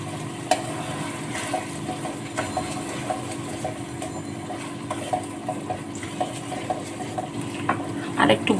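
Ginger paste, cinnamon, cardamom and onion frying in a pot for white pulao, with a steady low sizzle and repeated scraping and clinking of a spoon stirring against the pan.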